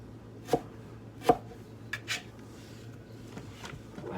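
A knife chops tomatoes on a cutting board for pico de gallo, giving a few separate, fairly quiet thuds spaced out in a quiet kitchen with no talking.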